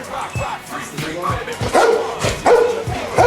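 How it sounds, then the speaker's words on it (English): A dog barks and yips in repeated short bursts, loud and close, with people talking over and between the barks. "He's a pretty good dog."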